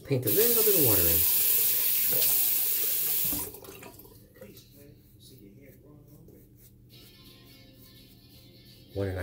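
Tap water runs loudly and steadily for about three seconds while shaving lather is being built, then shuts off, leaving quiet handling noises and a brief voice.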